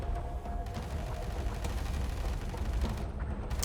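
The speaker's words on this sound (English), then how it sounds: "He's also bombarding my my Force Recon with his artillery." Artillery bombardment in the video game Tom Clancy's EndWar lands on a Force Recon unit as a dense, continuous rumble of blasts and gunfire-like crackle.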